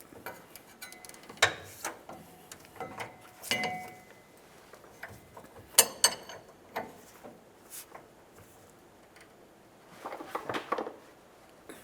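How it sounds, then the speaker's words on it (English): A wrench and socket snugging the leaf spring shackle nut on a 1994-2002 Dodge Ram 2500: sparse metallic clicks and clinks of tool on nut, close but quiet, in short bursts separated by near-silence. "At this point, we can continue snugging the nut and then we can torque it."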